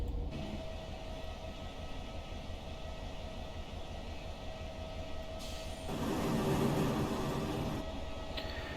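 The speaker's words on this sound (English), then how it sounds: "the wagon sounds just cut in and out like that." Freight wagons rattle and rumble behind a Class 66 locomotive in Train Simulator Classic, a steady rolling clatter that abruptly swells louder near the end before dropping back.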